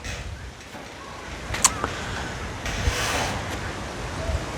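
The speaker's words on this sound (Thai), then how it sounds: "ลมหนาวพัดวีอยู่" Cold wind blows steadily outdoors, a continuous breathy rush with buffeting against the microphone and a few faint clicks, no voices.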